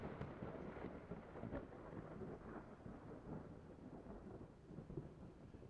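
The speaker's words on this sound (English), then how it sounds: "Thunder." Soft, distant thunder rolls over steady rain in a quiet stormy ambience, rumbling unevenly without any voices.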